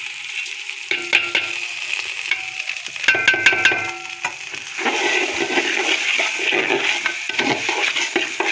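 Raw rice goes into a pot with ghee over low heat for restaurant-style chicken biryani and is stirred, giving a steady close sizzle with scraping spoon strokes and grain rustles, no talking.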